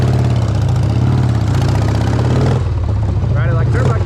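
A cheap Harley-Davidson Sportster hooligan desert sled motorcycle revs hard as it rips through an orchard, its loud continuous engine roar rising and falling close by.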